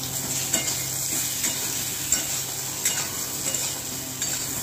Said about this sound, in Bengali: এখানে শুকনো লঙ্কা, জিরে, দালচিনি, লবঙ্গ, এলাচ এগুলো ফোড়ন দেবো